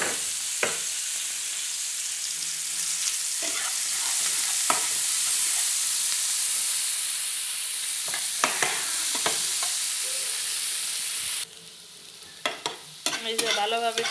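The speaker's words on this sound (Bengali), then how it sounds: "এই যে ভালোভাবে পেঁয়াজ, রসুন আর ধনিয়া পাতা ভেজে নিলাম।" Chopped onion, garlic and coriander leaves with black cumin fry in hot oil, giving a steady close sizzle broken by spatula scrapes and clicks, then a sudden drop in the hiss followed by a few louder clatters.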